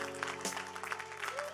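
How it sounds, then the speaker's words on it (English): Audience applause for a poet at the Eswatini Young Academy of Sciences launch, a short burst of steady clapping over a continuous hum, with a voice faintly present. "Can we give him another huge round of applause?"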